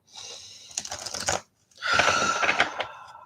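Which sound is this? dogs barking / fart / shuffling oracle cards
shuffling oracle cards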